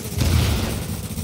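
Gunfire in the video game Tom Clancy's The Division, a brief loud booming burst with low rumble.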